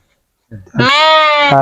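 A single loud, drawn-out goat bleat close by, preceded by a brief rough vocal sound.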